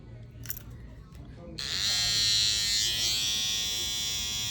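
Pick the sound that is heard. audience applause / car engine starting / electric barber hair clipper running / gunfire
electric barber hair clipper running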